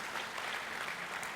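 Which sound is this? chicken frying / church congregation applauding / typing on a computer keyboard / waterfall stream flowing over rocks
church congregation applauding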